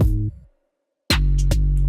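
A programmed trap-style beat plays loud and close: a heavy kick, a snare, a deep 808 bass and hi-hats. It cuts to silence for about half a second, then comes back with sharp hits.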